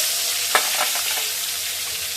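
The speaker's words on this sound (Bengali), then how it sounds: "ওই তেলে আলুগুলো ভেজে নেব" Potatoes frying in oil left over from frying fish, a strong continuous sizzle with a sharp stir-scrape near the start and quieter stirring after, no talking.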